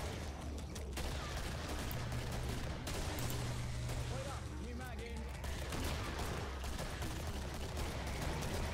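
Dual hand cannons firing in the video game Killing Floor, rapid dense gunshots and fusillade-like bursts running continuously throughout, mixed with chaotic game noise and voices underneath.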